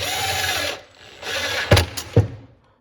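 A cordless power tool whirs in short bursts, driving bolts gently into a bracket on a New Edge SN95 turbo Mustang, then stops; a few sharp ratcheting clicks and metallic knocks follow close by.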